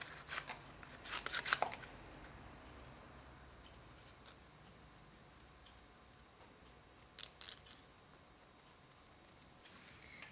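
Scissors trim chocolate chip cardstock in short snipping bursts, a cluster near the start and another briefly later, quiet and close, with soft paper handling and long near-silent gaps between.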